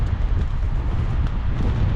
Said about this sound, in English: it is windy, very windy